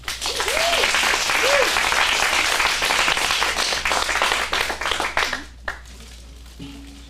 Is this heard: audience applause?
yes